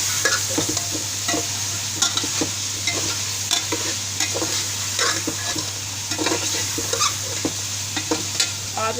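Chicken pulao with turmeric sizzling steadily in a pan while a spoon stirs and scrapes in quick, irregular strokes, close and clear with no talking.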